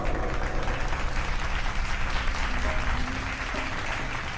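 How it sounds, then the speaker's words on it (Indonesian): Lively audience applause for a performer, a dense continuous wash of clapping with crowd murmur beneath, steady and fairly loud for the whole stretch. "Kasih tepuk tangan yang meriah buat Anyun."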